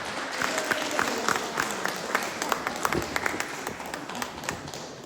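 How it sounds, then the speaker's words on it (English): Steady applause from an audience, many hands clapping densely throughout with faint murmuring underneath. "Please give a round of applause for our spokesperson, Mr. Dave Yoho."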